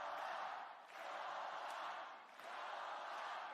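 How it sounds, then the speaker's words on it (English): A New Japan Pro-Wrestling arena crowd roars in broad, swelling waves of cheering, chanting in two or three surges that dip briefly between them, heard at a distance. "This crowd is loud."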